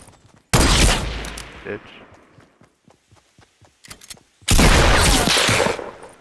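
A semi-automatic gun fires in Fortnite, with two loud, dense bursts of rapid shots separated by a quieter stretch of scattered footsteps and clicks, and a voice speaks briefly.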